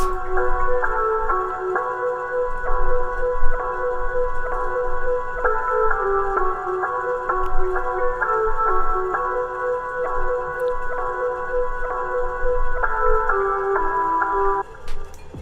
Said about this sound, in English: This is the main melody for the beat